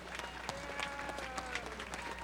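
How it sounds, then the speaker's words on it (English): An audience at a folk festival's opening ceremonies claps for the ambassadors, a steady, moderately distant wash of hand claps with a few sharper individual claps standing out. "Please, a round of applause for our ambassadors."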